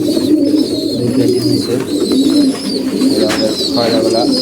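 Pigeons coo steadily inside a loft, soft layered calls overlapping throughout, with chirps above and a voice talking now and then.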